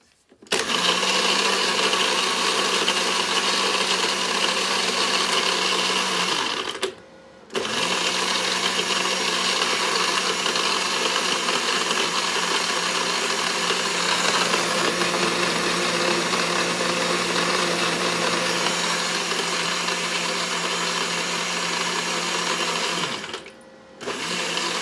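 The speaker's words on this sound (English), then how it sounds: "me turning the blender on and off" A countertop blender crushing ice while running off a Jackery 1000 portable power station, its loud steady motor whine and grinding churn switched on and off, with two brief pauses splitting long continuous runs.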